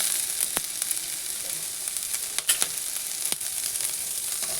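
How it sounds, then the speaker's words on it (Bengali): Steady, hissing sizzle of capsicum added to frying onions in hot oil, close up, with a few sharp crackles and pops scattered throughout. "পেঁয়াজটা একটু হালকা ভাজা ভাজা হতেই এর মধ্যে আমি দিয়ে দিচ্ছি ক্যাপসিকাম"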